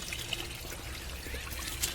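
Filtered tender coconut water and asafoetida mixture is poured into a tank on an organic sesame farm, a steady trickling splash against broadband outdoor noise.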